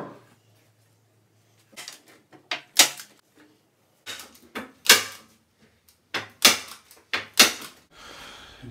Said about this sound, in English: just put a couple of staples in these